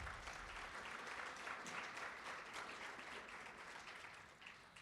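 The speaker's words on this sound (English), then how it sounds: "So a round of applause for those organizations." An audience applauding at a conference keynote, a sustained wash of many hands clapping at steady strength that tapers slightly at the end.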